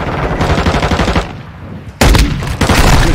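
Rapid automatic gunfire from Call of Duty rattles loudly in a fast rhythmic burst, pauses briefly, then two more heavy blasts of firing crash in close and dominant.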